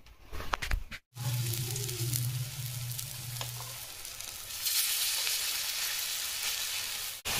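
Small spoonfuls of gram-flour batter fritters sizzle steadily in hot mustard oil in a village kitchen pan, a continuous close crackle that briefly drops out after a clatter, then resumes and brightens.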